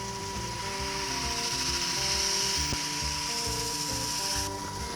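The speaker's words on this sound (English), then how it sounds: "I'll spin the lathe up a bit just to take off the excess." A wood lathe spins a lacquered bowl, giving a steady mechanical whir with a faint rhythmic ticking, close by and continuous, with no talking.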